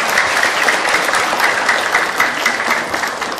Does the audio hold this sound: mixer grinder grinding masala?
no